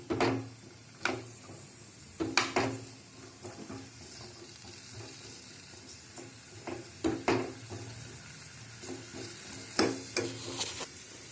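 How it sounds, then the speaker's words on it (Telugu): Cut carrot pieces softening in a pan for carrot chutney, a low steady sizzle under occasional sharp stirring scrapes and clanks of a utensil against the pan. "ఇందులో కట్ చేసుకున్న క్యారెట్ ముక్కలు వేసుకుని కొద్దిగా మగ్గనివ్వాలి."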